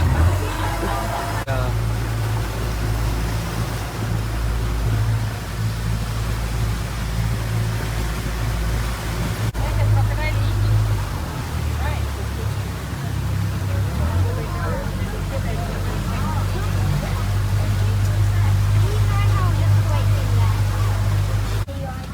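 A motorboat engine drones loudly and steadily throughout on a mangrove forest tour in Langkawi, Malaysia, with voices faintly audible beneath the constant rumble.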